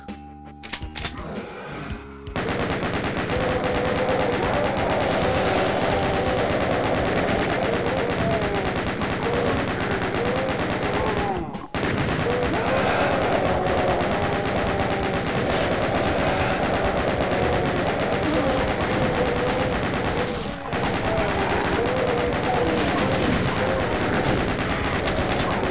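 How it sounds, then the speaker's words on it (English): A chain gun fires almost without pause in the Final Doom PC game, a dense, loud stream of rapid shots lasting over twenty seconds with only two momentary breaks. "I feel like this is a waste of chain gun ammunition, actually."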